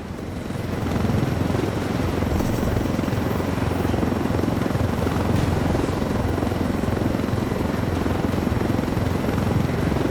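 A helicopter in Ghost Recon Wildlands flies with a loud, continuous rotor roar and engine drone that swells in over the first second and then holds steady, with no voices.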